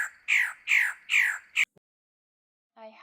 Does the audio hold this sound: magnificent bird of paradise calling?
yes